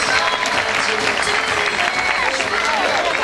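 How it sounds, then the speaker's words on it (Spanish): A television studio audience claps loudly and continuously, a dense, steady wash of many hands with voices faintly mixed in. "los aplausos para Luz."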